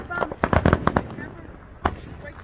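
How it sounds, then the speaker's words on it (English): A county fireworks show in Defiance, Ohio, with a rapid burst of loud crackling bangs followed by a single later pop against rumbling background. "Let's get right on with the fireworks show."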